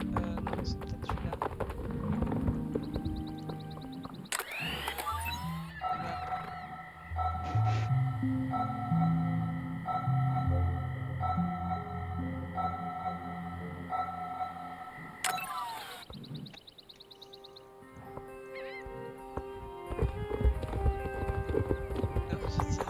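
Hooves of a horse in the online riding game Star Stable Online clip-clop in a steady, close rhythm, accompanied by tonal game music and effects; a short pause near the middle breaks the pattern.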